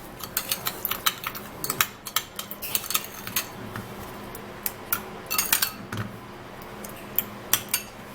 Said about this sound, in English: I'm going to be taking 1 tablespoon of the sugar into this aloe vera, and then we would have to give it a mix.